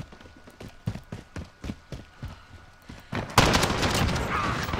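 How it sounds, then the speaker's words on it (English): Shotgun blasts in the video game Call of Duty: Modern Warfare, a run of about eight sharp, evenly spaced shots followed by a louder, denser burst of gunfire and noise at the end. "I used the shotty."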